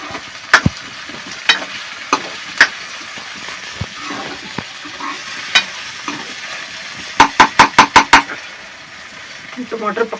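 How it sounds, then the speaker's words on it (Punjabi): Tomatoes sizzle in a pan while a spoon scrapes and stirs, with a quick run of sharp metallic taps near the end. "ਟਮਾਟਰ ਨੂੰ ਜਰਾ ਰਾੜਾ ਲਾ ਲਈਏ"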